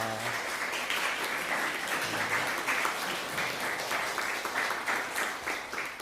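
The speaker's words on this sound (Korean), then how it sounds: "우리 옆에 있는 분들 박수로 환영하겠습니다" A church congregation at a Sunday worship service claps to welcome one another, a steady, moderately loud applause filling the room without speech.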